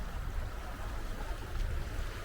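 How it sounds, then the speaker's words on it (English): A fast mountain river in the Kootenays rushes past in a steady, broad roar of churning water, heard at moderate loudness with no voices. "the nice river flowing. It's really fast"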